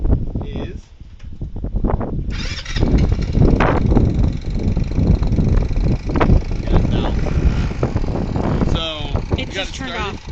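A customer's motorcycle, not tied down and with timing, valves and carb still needing adjustment, idles steadily up close with a loose rattling clatter throughout, a voice talking over it.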